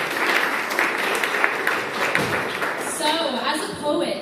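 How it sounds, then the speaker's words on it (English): An audience at a poetry and poppadums arts evening applauds a poet, steady crowd clapping and cheering that carries on under and after a host's voice. "So can we all, first of all, give Paul a huge round of applause"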